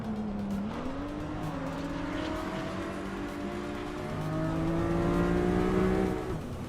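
Race cars in a video game race roar and rev close together, engines rising and falling in pitch with tyres squealing briefly, loud and continuous with no voices.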